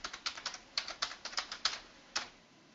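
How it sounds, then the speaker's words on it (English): Typing on a computer keyboard: a quick irregular run of crisp key clicks, close and fairly quiet, with a short pause before a final keystroke and no voices. "I can hear you typing."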